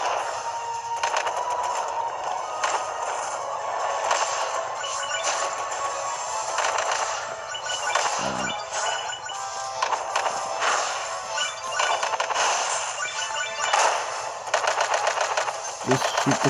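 Rapid gunfire and shooting in the Kid Icarus Uprising video game, a dense continuous barrage of game effects and music with occasional heavier impacts, under a person's intermittent commentary.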